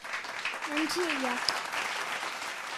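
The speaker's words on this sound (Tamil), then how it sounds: "நம்ம வழக்கம் போல் ஒரு கைத்தட்டு கொடுத்துடலாம்" An audience claps politely during a Tamil devotional literature programme, a soft, steady patter of many hands with a voice rising briefly above it.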